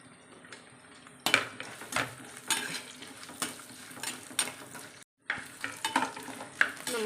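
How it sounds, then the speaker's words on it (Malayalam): Green chillies and coconut pieces fry in a pan: after a quiet opening, a close sizzle runs under repeated spoon scrapes and clinks against the pan, with a brief silent gap near the end before the stirring resumes. "തേങ്ങാക്കുത്തും കൂടി ഇട്ട് ഒന്ന് മൂപ്പിച്ചെടുക്കാം"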